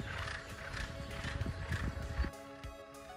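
A steeplechase racehorse in France snorts and whinnies close by, with hoof clops on hard ground and some stable movement around it.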